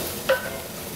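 Ingredients hit a hot cast iron pot in a firehouse kitchen, giving a short clank followed by a steady broad sizzle of frying that continues throughout, close by with no speech.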